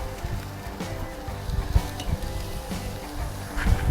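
Ribeye steaks sizzle steadily in hot fat during a final sear, a continuous crackling hiss with small pops throughout, close and fairly loud with no voices.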